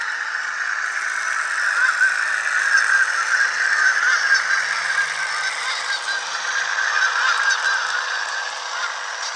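A steady, nasal honking horn from an HO scale Budd RDC model train fitted with a Galloping Goose sound system, sustained and fairly loud for the whole stretch with a slight rattling buzz.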